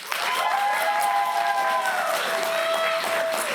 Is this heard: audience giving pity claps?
yes